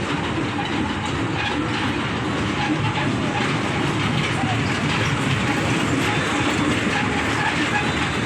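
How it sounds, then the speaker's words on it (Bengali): A toy train runs through the woods at a picnic corner in Gopalpur, Sundarbans, with a steady rumbling clickety-clack that continues without a break, close and fairly loud, with faint voices in the background. "ট্রেন চলছে"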